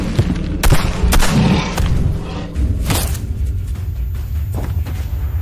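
Loud film gunfire in a battlefield action scene: heavy booming shots and thuds over a dense, rumbling soundtrack, with several sharp bursts standing out over a few seconds.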